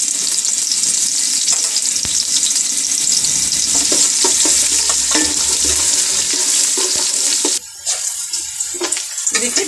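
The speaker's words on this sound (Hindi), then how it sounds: "प्याज को फ्राई करते हैं।" Onions fry in hot oil for aloo pulao, a loud, steady sizzle and crackle close by, with a brief dip and some stirring scrapes near the end.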